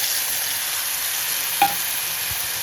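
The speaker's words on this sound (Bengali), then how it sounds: "মশলাটাকে যতক্ষণ না কাঁচা গন্ধ বেরোচ্ছিল মশলা থেকে ততক্ষণ কষিয়ে যাব" Spice paste frying in oil for Bengali radish ghonto (mulor ghonto): an even, steady hiss of sizzling with a single brief clink of a utensil partway through, close and constant.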